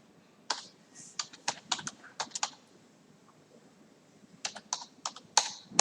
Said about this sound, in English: and press enter key